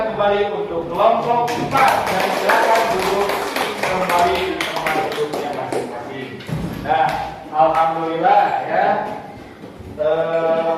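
Elementary school students in a classroom clap together after a group presentation, a dense patter of many hands that swells and fades, mixed with voices talking over it.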